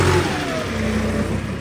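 A tractor engine revs hard while hauling a heavy load of bricks to a farmhouse building site. The steady, loud mid-range drone runs throughout the clip with no talk over it.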